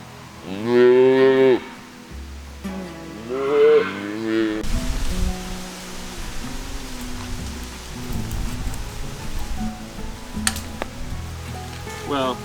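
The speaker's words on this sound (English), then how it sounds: "She's mooing for him up there." A cow on a homestead moos repeatedly for her calf, several loud, drawn-out calls in the first few seconds, then quieter farm background with faint rain-like patter and some distant sounds.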